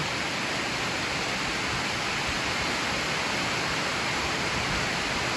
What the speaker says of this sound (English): Sorry for the noise of the rain.